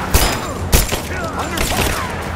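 Gunfire in Rise of the Tomb Raider sounds as two loud, close shots over a dense, continuous wash of combat noise and rumble.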